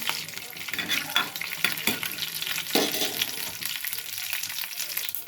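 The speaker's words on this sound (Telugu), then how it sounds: "ముందుగా ఆయిల్ పోసుకొని తాలింపులు వేసేస్తున్నాను" Tempering spices sizzling as they hit hot oil in a pan, a loud crackling fry that keeps going with scraping stirs and spatter bursts, and no voices.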